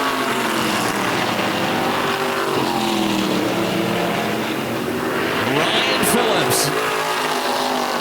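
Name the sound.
race cars racing in feature race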